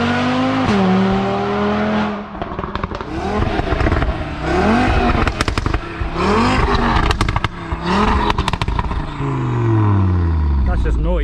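A 2020 Audi RS3 revs and shifts down hard, the engine note rising and falling repeatedly with sharp crackling exhaust bangs scattered through it, loud and close with talk over parts of it.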